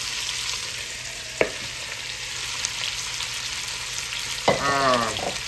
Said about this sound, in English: And get a good sear on this meat, y'all.